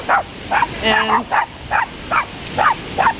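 Dogs bark in a rapid, repeated series of sharp, echoing woofs at Maligne Canyon, nearby and loud, about eight barks in quick succession, with a brief human voice mixed in.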